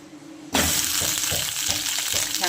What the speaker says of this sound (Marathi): आपण पहिला थोडासा शेवगा फ्राय करून घेणार.